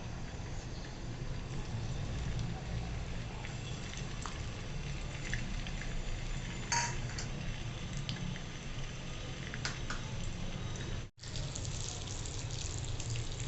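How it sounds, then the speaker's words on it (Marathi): Eggs rubbed with chili powder and salt fry in hot oil, giving a steady, moderately loud crackling sizzle that runs unbroken, with one brief drop near the end. "आता हे आपण तेलावर असं परतवून घेऊ"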